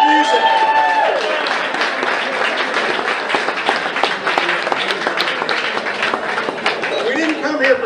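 Loud, dense audience applause for a band at a Jack Daniel's Sinatra Select whiskey launch party, a steady roar of many hands clapping close by that holds throughout.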